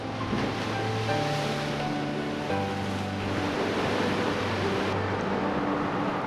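Steady surf of the East Sea breaking along the shore of Ulleungdo, a volcanic island, forming a continuous loud wash of waves with some wind noise and no voices.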